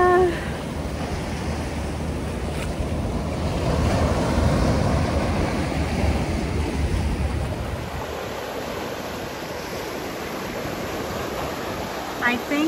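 Ocean surf at Nimitz Beach in Kapolei, Hawaii, a constant roar of breaking waves mixed with heavy wind buffeting the microphone, loud and close throughout.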